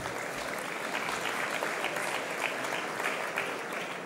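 An audience at a metaverse conference gives steady, even applause, a dense patter of many hands clapping that carries through without a break.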